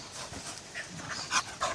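A small dog named Špilka pants rapidly and near at hand in quick breathy bursts, a few of them sharper and louder toward the end.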